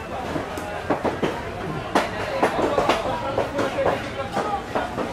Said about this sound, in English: it's the noise of a market where people are busy buying